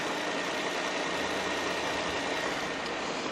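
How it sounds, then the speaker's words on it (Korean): A Renault Samsung SM7 large sedan engine idles with the hood open, a steady, even mechanical hum heard close and alone without any change in pitch. "엔진 소음 먼저 들려드리면은"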